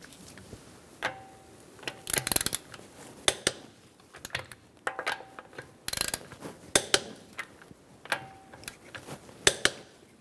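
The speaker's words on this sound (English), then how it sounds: "We're going to torque our wheels to 100 foot-pounds using a 19mm socket" Wheel lug nuts on a 2013-2022 Buick Encore are torqued with a 19mm socket wrench, producing sharp, irregular ratcheting clicks and clacks close by with short pauses between pulls.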